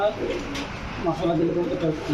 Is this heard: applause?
no